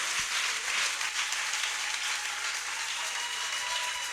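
A church congregation claps during a service, a dense, steady wash of applause that carries unbroken for about four seconds with no talking over it.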